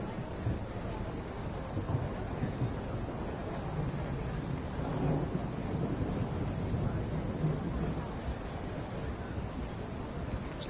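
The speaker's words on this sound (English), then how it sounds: "Just let you enjoy that real good crack and rumble of thunder there." Thunder in Train Sim World 5 on the London Euston to Milton Keynes line rolls as a low, sustained rumble, swelling near the middle, against steady wind-like noise.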